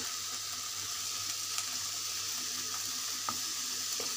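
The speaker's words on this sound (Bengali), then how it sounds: "এটা এখন আমি তেল দিয়ে ভালো করে ভেজে নেব" Dried fish (shutki) fries in a little oil with onion, chili and garlic, a constant even hiss of sizzling with a couple of faint spatula taps.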